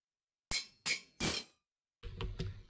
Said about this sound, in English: Hammer breaking.